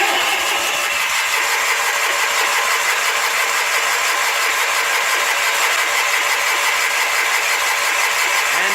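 A Sears Suburban SS16 garden tractor engine is cranked over in winter cold with the throttle set near half, its starter turning in a steady rapid rhythm for the whole stretch, loud and close, without catching.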